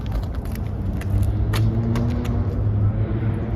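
Steady, loud low rumble of a Nissan Skyline GT-R engine idling up close, with a few faint metallic clinks over the continuous drone.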